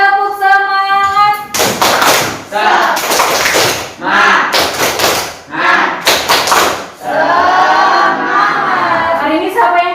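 Rhythmic hand clapping from a classroom of students doing a 'tepuk semangat' spirit cheer, bursts of claps in a set pattern alternating with group chanting and voices, with a teacher's sung or spoken voice at the start and end.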